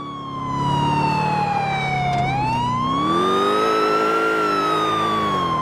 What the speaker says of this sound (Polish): W sumie mogę tą syrenę cały czas